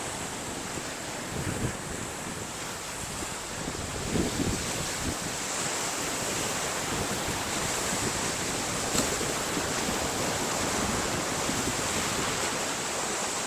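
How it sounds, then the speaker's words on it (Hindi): Strong sea waves surge and crash against rocky hills at the last edge of the coast near Mubarak Village, Pakistan, a steady loud roar of surf with heavy wind buffeting the microphone throughout. "बहुत तेज़ी के साथ समंदर की लहरें यहाँ पहाड़ी टीलों के साथ टकरा रही हैं।"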